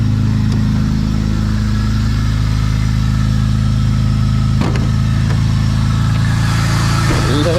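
A BMW E46's M54 engine idles steadily while warming up, a loud, constant low hum with a couple of brief blips in throttle near the end.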